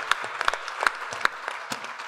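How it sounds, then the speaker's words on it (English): A small audience at an evening motion-design talk in San Francisco claps for its presenters, giving a sparse, fairly quiet patter of scattered handclaps with a few sharper claps standing out, without talk. "So I'm going to give a big round of applause to our presenters."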